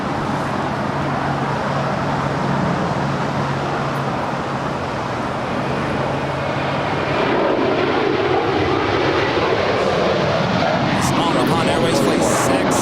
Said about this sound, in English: the 777-300ER, making that left-hand turn on the taxiway Lima